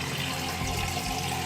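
A shower-head rig with a tank and bungee cord sprays water to wash film negatives, producing a steady, even hiss of spraying water that is close and fills the whole short moment.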